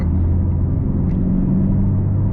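A Chevrolet Camaro SS V8 cruising, with a steady, loud low engine rumble and drone heard close from inside the car, unbroken throughout.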